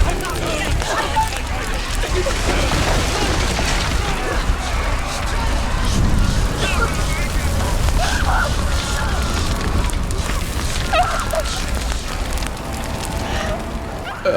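Fire roars around the warrior Senua in the video game Hellblade: Senua's Sacrifice, a steady, dense rumbling blaze that lasts throughout, with crackles and bursts layered over it and game voices speaking over the flames.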